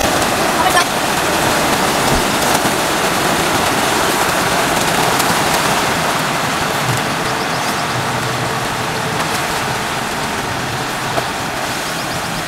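Water gushes steadily from a tractor-driven tubewell, leaking through cracks, making a dense, unbroken rushing roar like heavy rain that holds at one level from start to finish, with voices faintly underneath.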